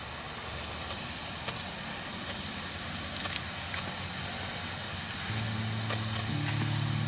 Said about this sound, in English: And now we're spraying the yard.